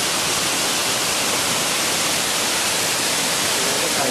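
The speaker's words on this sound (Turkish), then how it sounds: "Gördüğünüz gibi şelale bu." A waterfall roars as a steady, dense rush of falling water, loud and close, filling the whole stretch without a break or any voices.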